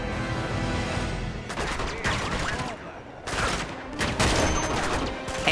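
Sniper rifle shots ring out in the Uncharted: Among Thieves video game, several loud sharp cracks in bursts among game noise, with a voice talking over them.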